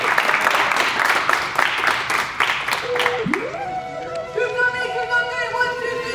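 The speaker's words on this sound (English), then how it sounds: "Let's go get a clap up" A sports team claps together in a rapid, even rhythm of sharp claps. A voice talks over it before music takes over.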